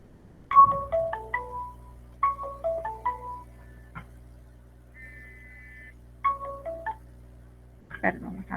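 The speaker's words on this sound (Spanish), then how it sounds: "me está sonando el teléfono" A mobile phone plays a melodic ringtone in repeated bursts of short tonal notes with brief pauses between phrases, fairly clear against a quiet room hum.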